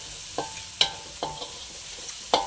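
Ginger and turmeric frying in a kadai, with a quiet continuous sizzle under a few distinct clinking stirs of a utensil against the pan, spaced about half a second apart, close and without speech.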